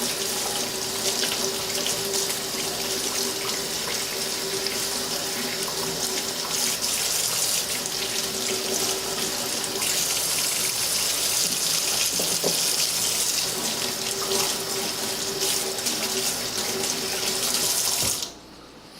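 Kitchen tap running steadily into a sink while freshly foraged spring vegetables are rinsed, a loud, continuous close gush that stops abruptly just before the end.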